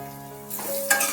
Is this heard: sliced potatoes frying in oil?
yes